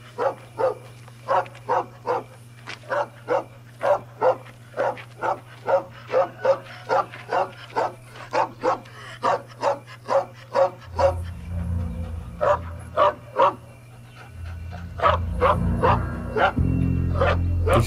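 Dog in a TV series barking and whimpering, about two dozen short regular yelps spaced evenly over roughly eleven seconds, then whining under a low humming and rumbling background toward the end.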